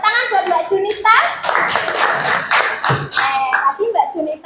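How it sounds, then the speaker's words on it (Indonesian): Applause from a classroom of students greets a student after her presentation, bursts of clapping mixed with a teacher's and children's voices talking over it, close and fairly loud. "tepuk tangan buat Mbak Junita"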